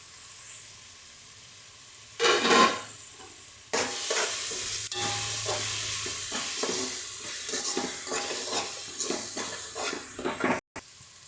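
Biryani masala with ginger garlic paste is fried and stirred in a pan for chicken biryani, sizzling steadily up close while a spoon scrapes and stirs in repeated strokes.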